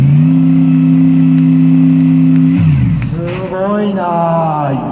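Hatsune Miku AMG race car at an auto show revs hard as the accelerator is pressed, a loud steady engine drone that rises and shifts pitch, then settles into a rough idle, with the event crowd and people talking around it.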